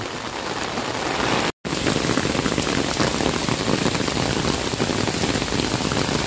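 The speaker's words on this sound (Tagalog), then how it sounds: "naririnig nyo po yung patak ng ulan" Steady rain falls heavily and evenly at Luneta (Rizal Park), a dense patter on surfaces with a brief cut partway through, no voices.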